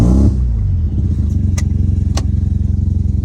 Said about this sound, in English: as you guys can see, it starts up pretty good